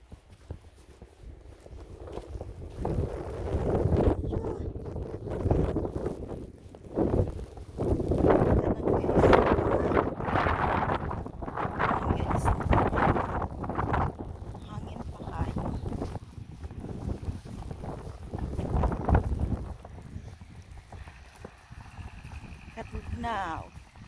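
Snowstorm wind buffets the microphone in heavy, uneven gusts that roar and fade over about twenty seconds, with bursts of rumble between calmer moments.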